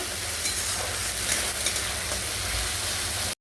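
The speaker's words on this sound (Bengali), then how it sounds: "তেলটা গরম হলে এই তেলে অর্ধেকটা পেস্ট দিয়ে দেবে বাকি অর্ধেকটা রেখে দেবে পুরোটা দেবে না দিয়ে এবার নাড়াচাড়া করে নেবে" Red lentil paste fries in hot oil while being stirred, a dense continuous sizzle with soft scraping under it, cutting off abruptly at the end.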